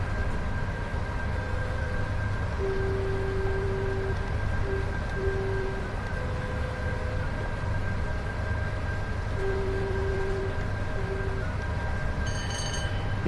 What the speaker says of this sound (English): Another one going past there with some Mark 3s.